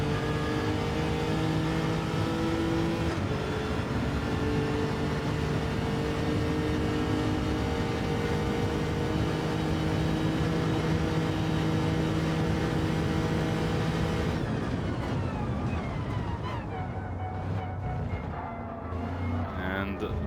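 A race car engine drones steadily through a lap of an endurance championship racing video game, loud and continuous with pitch shifts, and a commentator talks over it before the engine note changes near the end.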